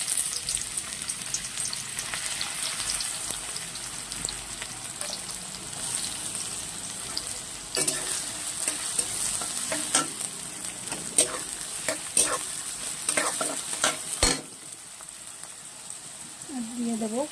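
Chopped onions hit hot oil in a pan after dried red chillies have been fried, giving a steady loud sizzle with occasional stirring scrapes and clatters throughout.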